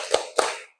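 A classroom of students doing a rhythmic focus clap, two sharp unison claps about a quarter second apart, the second ringing slightly longer before silence.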